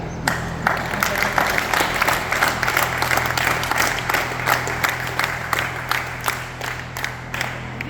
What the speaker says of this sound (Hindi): एक बार जोरदार हमें ताली बजाना पड़ेगी